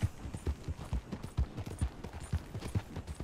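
Horse hooves galloping in Red Dead Redemption 2, a quick uneven run of soft thuds and clops heard fairly close and a little muffled, with no talking.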